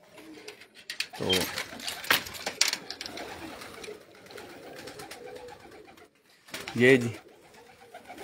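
Pigeons coo from a rooftop loft in a few short, close bursts with wing flutters amid quieter rustling, while someone talks over parts of it.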